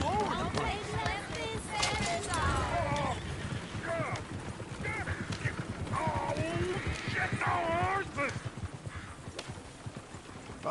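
Horse hooves in Red Dead Redemption 2 clop at a steady gallop, mid-distance, running continuously beneath overlapping talking voices and background game ambience.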